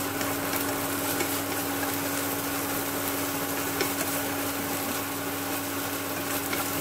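Continuous sizzling and frying in a hot pan, with steady stirring scrapes under a constant hiss and a faint background hum, stir-frying minced galangal.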